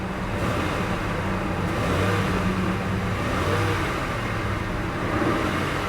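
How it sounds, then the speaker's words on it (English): A Toyota car engine runs loudly and steadily under an open hood, rising in a couple of mild revs, heard up close with a broad rumbling roar and no speech. "Give it a little rev."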